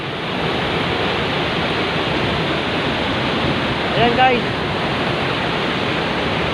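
Steady, dense roar of a waterfall filling the scene without pause, with a brief voice speaking near the end over the constant flow.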